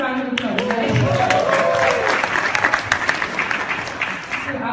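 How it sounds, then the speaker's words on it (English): Applause rises from an audience at a film success event while a voice talks over it. The clapping builds into a steady patter under the speech and thins out near the end. "why not a round of applause"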